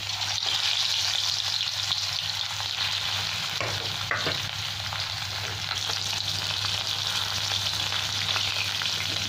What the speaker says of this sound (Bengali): মাছগুলো ভেজে নেবো লাল লাল করে।